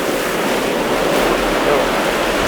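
Ocean waves surge and crash against coastal rocks in a continuous, loud roar of churning surf, with wind noise buffeting the microphone and no voices.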